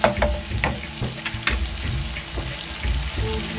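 Onions frying in a pan until reddish and soft for a dry fish and egg curry: a steady close sizzle and crackle broken by scattered stirring knocks, with no talking.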